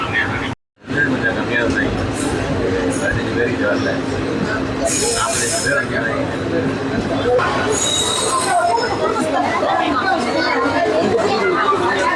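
A train rolls into Mandapam railway station in India with steady rumble and intermittent high wheel squeals, while people chatter nearby throughout.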